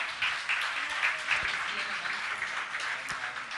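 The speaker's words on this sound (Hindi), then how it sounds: "ताली तो बजाइए।" Audience applause at a Jain religious gathering, steady clapping from a large crowd with brief louder bursts, and a voice talking faintly under it.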